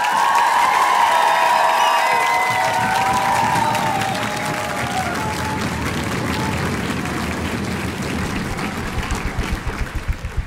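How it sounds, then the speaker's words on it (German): A concert audience at a school choir performance breaks into strong, sustained applause with cheering and whoops at first, settling into dense steady clapping that thins toward the end. "Dieser große Applaus"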